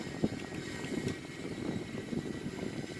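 Airbus A340-313X in a flight simulator game, descending on approach with flaps set, a steady droning engine hum and airflow rumble with a few faint clicks over it.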